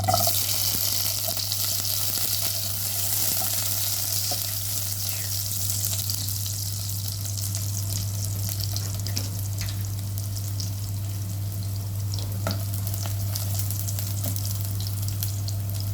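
Chopped garlic sizzles steadily in hot oil in a frying pan while making chicken liver gisado, a loud, continuous frying hiss with faint scraping and stirring, and no talking.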